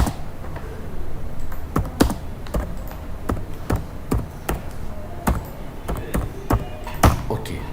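Typing on a computer keyboard: a quick, irregular run of crisp keystroke clicks, close and clear, with no voices over it.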